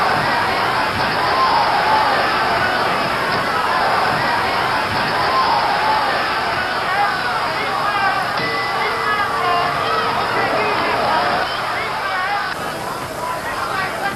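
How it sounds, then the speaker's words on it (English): Boxing arena crowd at a bout fought with 8-ounce gloves, a dense continuous roar of cheering and hubbub that stays loud and steady throughout, with some voices mixed into the crowd noise. "and the crowd loving it"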